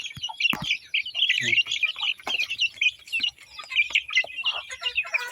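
Backyard chickens and chicks cluck and peep in a busy, continuous chorus of high chirps and clucks, close by, with a few brief low knocks among them.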